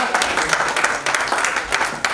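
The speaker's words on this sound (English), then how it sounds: "We have to give a round of applause." A round of applause at a sustainable development event by DMA, TERI SaS, VYK and Vijayash Foundation, with dense steady clapping from a gathered audience filling about two seconds.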